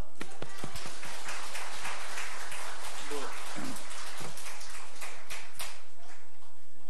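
A church congregation gives loud, sustained applause to welcome a preacher coming forward for the afternoon sermon, dense clapping filling the room for the whole stretch.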